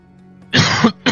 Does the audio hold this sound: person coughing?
yes